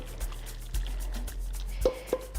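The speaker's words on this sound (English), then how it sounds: "just pour that in there." Ingredients are poured into a glass dish while South African mac and cheese is being made. A few soft thuds and clinks ring out against a low background, with two sharper knocks near the end and no speech.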